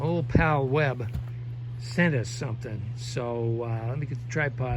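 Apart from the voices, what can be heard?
No distinct noise like a dog, phone or traffic.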